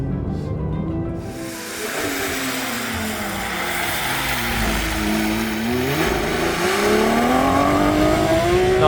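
A loud Porsche 911 GT3 race engine, derived from the 911 GT3 Cup, roars and accelerates continuously on mountain roads, its pitch climbing through gear changes, with no voices.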